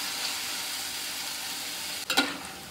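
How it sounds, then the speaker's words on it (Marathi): Onion sautés in a pan for a homemade prawn dish, a steady close sizzle followed near the end by a couple of quick scraping stirs, with no talking. "कांदा चांगला असा हलवून घ्यायचा, परतायचा बोलतात।"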